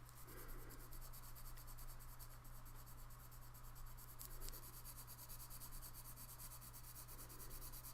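Colored pencil shading on paper, building light purple layers over a previous color: a steady, continuous soft scratchy rubbing close up, alone without talk, under a constant low hum.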